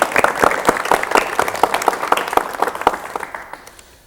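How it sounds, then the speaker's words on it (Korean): Studio audience applause on a 1985 Korean television talk show, as a cultural anthropologist guest is welcomed; steady, dense clapping from a crowd that fades out near the end. "박수로 맞이해 주십시오."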